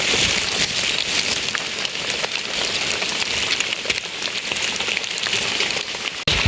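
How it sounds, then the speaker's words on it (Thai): Steady, dense rain pattering on leaves and surfaces all around, a continuous close hiss with occasional louder drops. "ฝนตกครับผม"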